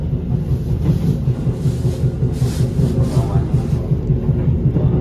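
Inside the Progo train hauled by a CC 203 locomotive, travelling from Jogja toward Bekasi: a constant loud low rumble with rhythmic wheel clatter, heard close from within the carriage.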